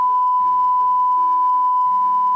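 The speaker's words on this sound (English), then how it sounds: "Oh, I guess that's the alarm" A steady electronic alarm tone sounds continuously and loudly from start to finish in an animated Gacha scene, with faint lower tones shifting beneath it and no speech.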